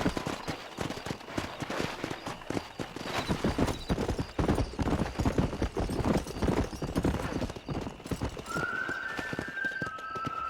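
Horse hooves pounding at a steady gallop while riding in the Red Dead Redemption video game, a dense, continuous clip-clop with a brief whinny-like tone near the end.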